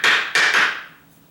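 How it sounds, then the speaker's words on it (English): A hammer strikes a brick paver block in a driveway: three sharp, close, loud taps in quick succession, the last ringing out and fading. "I can take a block with my hammer"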